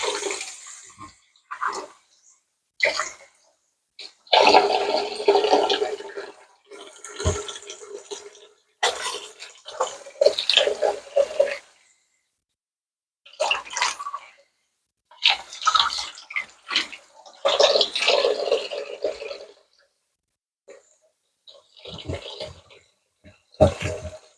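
Two bunches of greens get rinsed under a running tap, with close bursts of splashing, gushing water coming in uneven stretches separated by quiet gaps and some talking.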